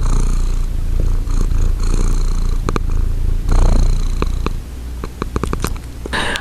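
A pet cat purrs loudly right up against the microphone, a steady rumbling rhythm that runs continuously and then breaks into softer, intermittent bursts toward the end.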